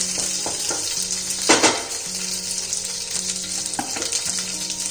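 Continuous loud crackling and sizzling of baby corn deep frying in hot oil, with busy popping throughout and no voices.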